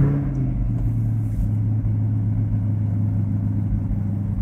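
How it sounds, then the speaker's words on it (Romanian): A Chevrolet Corvette C8 Stingray sports car engine rumbles at a steady, deep idle close by, low and throbbing without any revving. "hai să și pornim motorul și să vezi cât de fain se aude când pornește"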